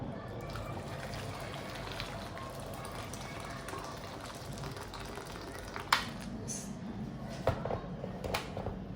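Hot boiled water poured over cabbage leaves for vegan sushi, a steady trickling run of liquid with a few brief clinks near the end, close and moderately quiet.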